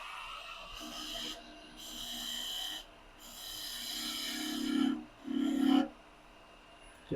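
A spindle gouge cuts wood spinning on a lathe, producing a rasping, scraping drone in sustained passes with brief gaps between them, the later passes louder and carrying a buzzing vibration, close and without talk.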